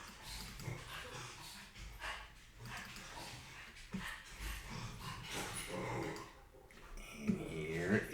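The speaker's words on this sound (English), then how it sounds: "You might hear my dog barking in the background there." A dog barks and yips faintly in the background indoors, in scattered short bursts beneath someone talking over rustling and handling noises.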